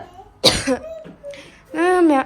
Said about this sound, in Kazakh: мен уже жөтеліп атырмын